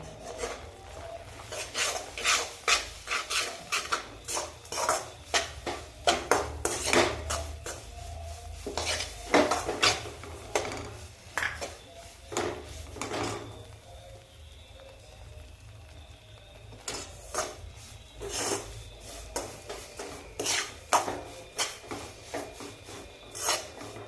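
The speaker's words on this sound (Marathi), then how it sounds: "आता हे चांगले मिक्स करून घेते" A spoon scrapes and knocks against a pan while a coarse mixture of ground sesame, salt and cardamom powder for sesame ladoo is stirred, with irregular clinks and rasping strokes at close range and no voices.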